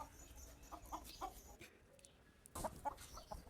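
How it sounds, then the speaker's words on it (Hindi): Household roosters cluck in short, faint bursts, a few soft calls early and another cluster near the end, set against quiet outdoor background noise. "फिर मैंने हमारे खोल दिए मुर्गे"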